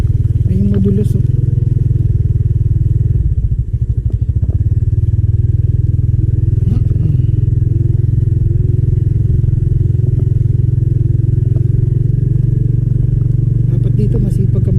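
A Honda Wave RSX motorcycle engine drones steadily at close range, rumbling and clattering continuously as it rides off-road over rough, slippery ground, with faint talk beneath the noise.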